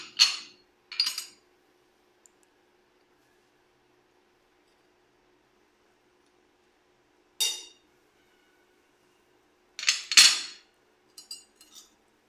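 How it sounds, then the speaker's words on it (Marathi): A spoon clinks against a dish in a few short bursts while spices are stirred together for a Surmai fish fry, with long quiet gaps between the scrapes and taps. "आता हे मी सर्व मसाले एकत्र करून घेत आहे."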